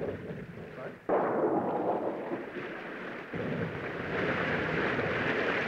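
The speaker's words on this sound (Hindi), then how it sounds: "लगता है तूफान आ रहा है।" Rumbling thunder from an approaching storm, loud and close, swelling in broad low surges with a sharp crack partway through, over a rain-like wash, with a voice speaking in the background.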